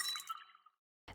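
A chiming app notification from break-schedule reminder software rings out clearly, a bright clinking tone that fades over about three quarters of a second, followed by a short burst of noise.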